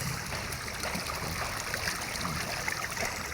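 Strong, steady rush of water flowing over clean stones in a stream, close and continuous with light gurgling.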